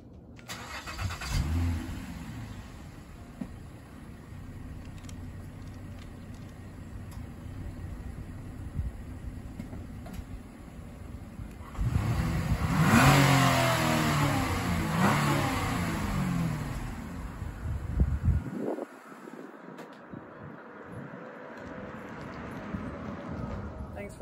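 A 2011 Mazda CX-9 V6 starts and revs, its engine note rising into a louder rev midway and then settling, heard close and steady with a person talking over it.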